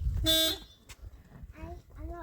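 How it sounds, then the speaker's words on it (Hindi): A single short car horn honk sounds close by, followed by voices speaking. "हॉर्न बजा दिया।"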